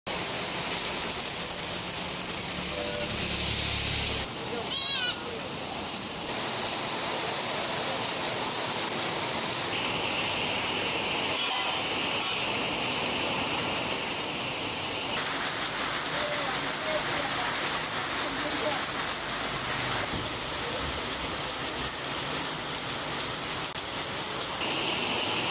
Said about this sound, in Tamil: 1 மணி நேரத்திற்கு மேல் பலத்த மழை கொட்டியது